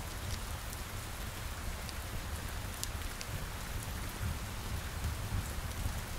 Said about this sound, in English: the rain and the thunder are disruptions in the quiet tranquility